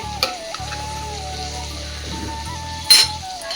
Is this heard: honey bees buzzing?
no